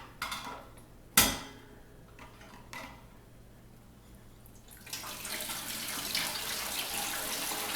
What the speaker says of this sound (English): I'm going to just dump that water right back into the pot